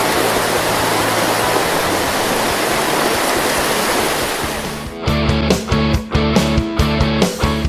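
Tumpak Sewu waterfall in Lumajang, Indonesia, roars as a loud, dense wash of falling water for about five seconds. It then gives way to rhythmic music with sharp beats.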